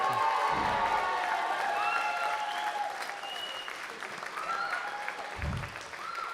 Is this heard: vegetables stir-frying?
no